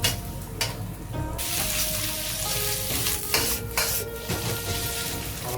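Day-old rice sizzles loudly in a hot pan as it is stir-fried and pressed apart with a spoon, for curry shrimp and pineapple fried rice, with constant frying hiss punctuated by scraping and stirring clatter.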